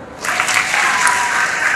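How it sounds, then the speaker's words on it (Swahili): An audience at a political gathering in Tanzania breaks into loud, dense applause, the clapping swelling quickly and holding steady as a close, continuous patter with no voices on top. "Makofi."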